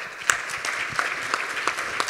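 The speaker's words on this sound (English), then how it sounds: "please give a round of applause for our panelists." Brief applause for the panelists after a pediatric innovation panel discussion, a light, fairly sparse patter of clapping from a modest audience with a few distinct sharp claps standing out.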